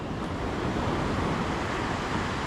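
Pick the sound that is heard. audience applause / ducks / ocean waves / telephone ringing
ocean waves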